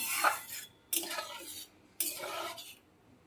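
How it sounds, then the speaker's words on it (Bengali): Fried paneer is stirred into dal in a metal pot in three separate bursts of scraping and clinking, each lasting under a second with short pauses between, close by and fairly quiet. "ভেজে রাখা পনিরটা দিয়ে দেব ভালো করে মিশিয়ে দেব সব কিছু"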